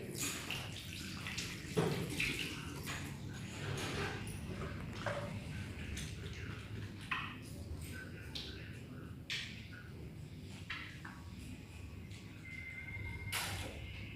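Hands being washed under running water in a six-step clinical handwashing routine, with a continuous close splashing hiss throughout and intermittent sharper splashes and rubbing sounds as the hands move.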